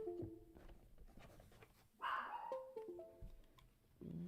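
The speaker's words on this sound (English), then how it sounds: "Now my dog's barking." A pet dog barking indoors, a few short barks and yips at moderate distance, faint behind a quiet room.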